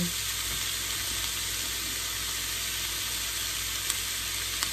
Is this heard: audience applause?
no